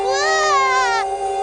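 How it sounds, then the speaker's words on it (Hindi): A cartoon baby wails in a steady, high, tonal cry that holds loud and close throughout, the pitch wavering and shifting near the end. "कोई बच्चा रो रहा है।"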